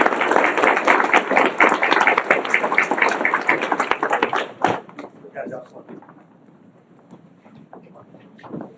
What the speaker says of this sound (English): Can we give these boys a big round of applause?